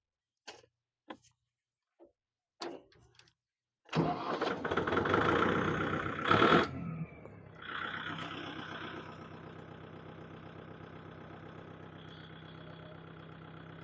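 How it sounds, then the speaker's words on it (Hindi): A Kubota MU5502 tractor engine cranks a few times with sharp clicks, catches with a loud surge, then settles into a steady, continuous idle at 2200 RPM. "अभी ये ट्रैक्टर स्टार्ट है।"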